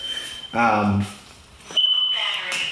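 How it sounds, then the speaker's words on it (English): A smoke alarm with a low battery gives a thin, high electronic chirp at the start and again later, with a person talking in between. "we have low batteries on the smoke alarm"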